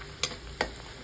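Chopped onion and four crushed garlic cloves fry in hot oil, a soft low sizzle punctuated by two sharp spatula strokes against the pan.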